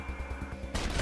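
Gunfire in the video game Wasteland 2: a dull run of repeated low shots, then a louder, denser burst of fire near the end.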